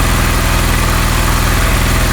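A Honda CD 70 motorcycle engine runs during carburetor mixture adjustment, a loud, close, steady mechanical putter with a fast even firing rhythm and no speech over it.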